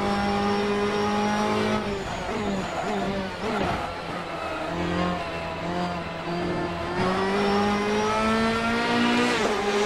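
A GT3 race car at about 285 km/h in the Assetto Corsa racing simulator, its engine howling loud and close with steady high revs that dip briefly on shifts before climbing again, no voices over it.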